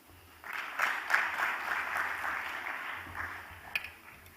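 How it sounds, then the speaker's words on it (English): An audience at a breakout session of a smart-city tech week event in Nairobi claps for a speaker, a moderate burst of applause that rises, holds for a few seconds and then thins out. "Ben, we can just give him a clap."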